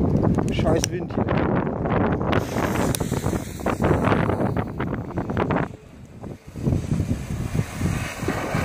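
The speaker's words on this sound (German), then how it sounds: "Scheiß Wind hier." Wind buffets the microphone outdoors at a small fireworks fountain set off by Weco, loud rumbling gusts that ease briefly before returning, with someone talking over them.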